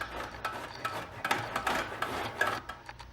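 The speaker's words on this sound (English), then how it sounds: "I'm grating the ginger root." Fresh ginger root being grated by hand in a home kitchen: a quiet, uneven series of short raspy scraping strokes, fairly close, with no talking over it.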